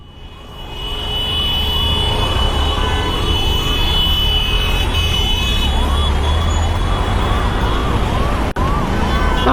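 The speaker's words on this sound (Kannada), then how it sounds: "ಬ್ರೋ ಹೋಗಿ ಬ್ರೋ ಆಂಬುಲೆನ್ಸ್ ಬರ್ತಾ ಇದೆ" A loud wailing ambulance siren rises and falls in a steady repeating cycle over heavy Bengaluru traffic rumble, continuous and close throughout.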